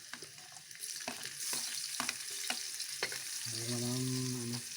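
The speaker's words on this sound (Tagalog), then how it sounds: "Mag-isa muna ako ng bawang." Garlic sizzles in a pan with steady frying hiss, punctuated by regular scrapes of a stirring utensil, and a brief humming tone near the end.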